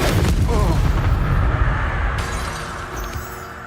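Incendio fire spell blast in Hogwarts Legacy, a loud booming burst that opens with a crackling impact and settles into a rumbling roar that fades out, with a voice partly overlapping.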